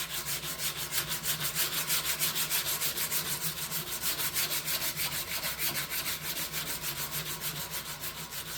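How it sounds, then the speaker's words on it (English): Hand wet sanding with 100 grit sandpaper during an ATC250R restoration: a steady, rhythmic back-and-forth rasping scrub that keeps a quick even pace throughout, close up and with no talk. "I'm only doing this with wet sanding because I don't want to get dust in the shop all over the bikes."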